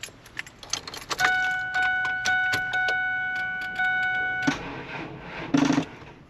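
Keys jangle close up as they go into a car's ignition, then a steady electronic warning chime sounds for a few seconds, followed by more key rattling and clicks, with no engine starting because the battery is dead.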